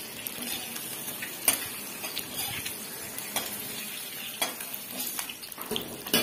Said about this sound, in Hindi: इसको मैं अच्छी तरह भून रहा हूँ।